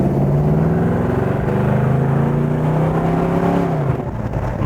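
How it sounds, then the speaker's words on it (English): A 1970 Ford Torino GT with a 351 Cleveland V8 rumbles loudly from its exhaust while driving, a deep steady drone that climbs slightly in pitch before easing off near the end. "Listen to that exhaust."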